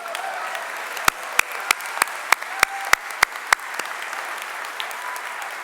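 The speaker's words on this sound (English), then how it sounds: "You can clap if you like." Audience applause at a doctoral hooding ceremony, a soft spread-out patter of clapping in a large hall, punctuated by about a dozen loud, sharp claps close by in a quick rhythm before fading.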